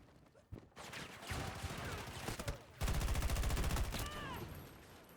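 Video game gunfire crackles in dense bursts, with rapid automatic fire close and loud at the end, over a busy mix of game noise.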